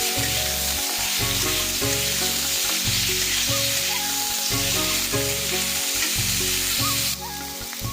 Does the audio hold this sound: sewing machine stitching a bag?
no